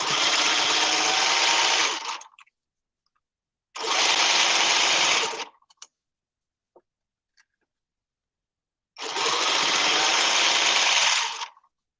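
A sewing machine runs in three bursts of a few seconds each, stitching back and forth through fabric, loud and close with silent pauses between the runs.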